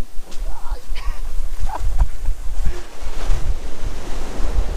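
Waves of the Arabian Sea at Varkala break and wash close by in a continuous surging rush, with heavy wind buffeting the microphone and faint voices in the background.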